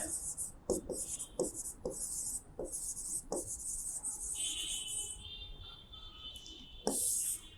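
Pen scratching on paper while a maths problem on distance covered and petrol quantity is written out, with short strokes and taps in irregular bursts, close and fairly quiet, under a faint steady background hiss.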